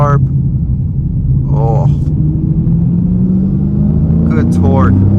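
Engine of a 2023 Dodge Challenger Scat Pack 1320 Edition heard from inside on a test drive with the window down, a steady low rumble that climbs slowly in pitch as it pulls, with a man briefly exclaiming over it.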